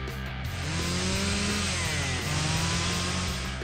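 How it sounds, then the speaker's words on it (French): A loud chainsaw in Poppy Playtime Chapter 3 drones continuously, its engine whining steadily with slight pitch wobbles, close and dominant throughout. "Oh! Une tronçonneuse! Je pourrais m'en servir!"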